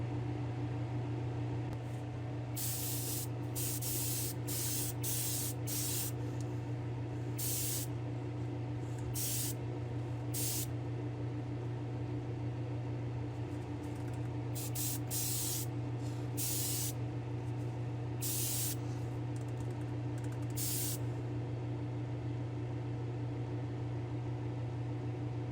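Gold plating paint from an aerosol can is dusted onto a Matchbox toy car in a dozen or so short hissing bursts of varied length. The sprays sit close and clear over a constant mechanical hum.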